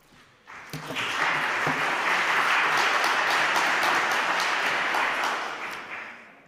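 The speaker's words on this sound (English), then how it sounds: "It always makes me nervous when people clap before I've spoken" A lecture audience bursts into applause for Professor Peter Stone of Blue Shield International before he speaks, swelling quickly, holding steady and full, then tapering away.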